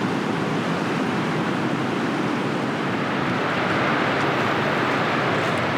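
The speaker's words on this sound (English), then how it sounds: "rained all morning, which means the waterfalls are surging." A surging waterfall swollen by a morning of rain in the Rockies, Takakkaw Falls fed by a glacier above, a dense, constant roar of rushing water with no break or talking.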